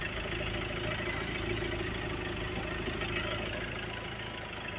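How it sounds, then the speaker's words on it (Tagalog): A warmed-up Ford Everest 2.2 diesel engine, just back from a top overhaul, idles steadily up close with an even low rumble and a faint rhythmic clatter. "nainit na yung makina niya guys"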